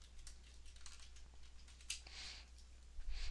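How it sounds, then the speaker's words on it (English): Typing on a computer keyboard produces a quick, irregular patter of soft key taps, close and very faint, with no talking. "So let's go ahead and type out our word."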